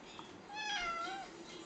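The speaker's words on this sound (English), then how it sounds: "Look at my nice kitty." A pet cat gives a single drawn-out meow with a rising and falling pitch, close but fairly soft over a low room hum.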